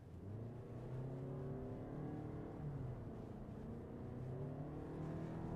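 A 2021 Nissan Rogue Platinum SUV pulls hard in sport mode, its engine note climbing steadily under a constant drone of road and cabin noise, heard from inside with no one speaking.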